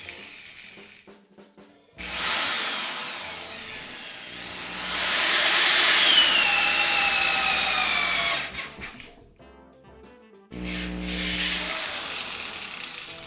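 A 3/4 inch auger bit bores into wood at a woodworking bench, two long grinding bursts of drilling with a shorter third burst after a pause, close and fairly loud with no talk.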